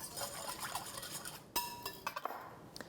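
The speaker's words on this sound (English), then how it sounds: "So I'm just going to give this a little bit of a whisk." Metal whisk clinking and scraping against a bowl while stirring homemade nut milk seasoned with nutmeg and cinnamon, a run of light, close taps and rattles with a few sharper clinks near the end.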